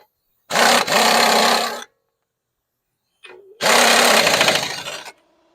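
A power tool tightens bolts on the front end of a Toyota Corolla (2003–2018) in two loud, close bursts of whirring and rattling, separated by a pause of a couple of seconds.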